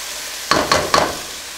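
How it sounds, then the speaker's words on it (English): A spoon scrapes through stew in a pot in three quick strokes, close and fairly soft, with quiet in between. "After each ingredient that you add, you stir it."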